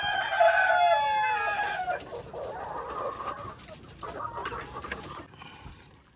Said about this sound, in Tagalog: So ito naman yung mga white leghorn natin mga ka-farmers